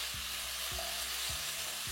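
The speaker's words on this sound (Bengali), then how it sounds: "এবার ফ্লেমটাকে মিডিয়াম করে আপনাদের এটাকে ভালো করে ভেজে নিতে হবে।" Garlic cloves and sliced ginger fry in a pan over medium flame, giving a constant bright sizzle with a few soft knocks from stirring.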